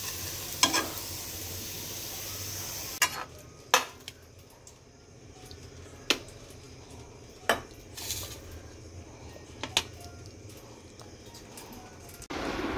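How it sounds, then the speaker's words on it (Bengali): Potatoes and beans fry steadily in a home-kitchen pan, a soft continuous sizzle broken by repeated sharp clinks of a spatula or spoon stirring against the metal. "একটু আলু বিনস ভাজছি।"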